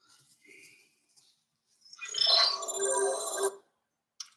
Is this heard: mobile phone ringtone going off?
yes